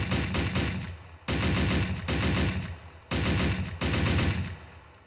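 An American rifle in ArmA 3 fires in three-round burst mode, with several short, loud, rapid bursts, each trailed by a brief echoing decay and a pause before the next.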